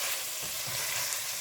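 Bacon lardons and onions sizzle steadily in a pan, a continuous close frying hiss with faint low bubbling, no voices over it.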